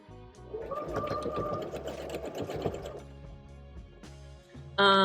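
Domestic sewing machine stitching steadily for about three seconds with its bobbin nearly empty, then pausing; a short sharp mechanical clatter follows near the end.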